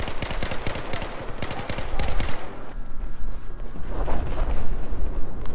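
Rapid automatic rifle fire from an M416 and Famas in the Battlefield 4 video game, a dense burst of loud shots that gives way to rumbling distant battle noise and a faint voice.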